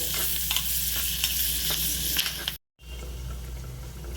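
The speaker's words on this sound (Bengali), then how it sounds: "আমরা পেঁয়াজটা বাটারে টস করে নেব। খুব বেশি ভাজবো না" Chopped onion tossed in butter in a pan, a steady close sizzle with repeated stirring scrapes, briefly cut to silence before the frying resumes.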